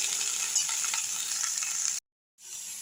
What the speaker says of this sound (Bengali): এবার এর মধ্যে আমি আলুগুলো দিয়ে দিব, দিয়ে বেশ কিছুক্ষণ ভেজে নেব।